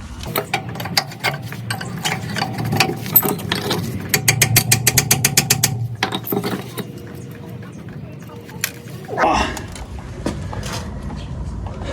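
A ratchet wrench clicks in rapid bursts, loosening a 19 mm brake caliper bolt on a Mercedes W124 300TD, followed by a heavier metallic clunk, close and clear, with faint talk in the background.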